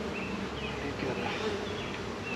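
Honey bees buzz steadily in a swarm trap, a close, continuous dense hum of many wings with shifting whines as individual bees pass near.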